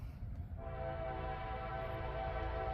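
An intermodal freight train passes close by on a line in Ohio, building within half a second into a loud, steady roar of rumbling wheels with a sustained tonal hum that fills the rest of the clip.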